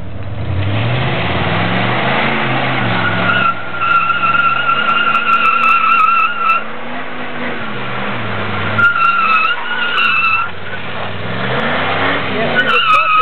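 A Ford F150 pickup power-brakes into a smoky burnout, its engine roaring at high revs with tires squealing continuously for the whole stretch, loud and close, with pitch rising and falling as the throttle works.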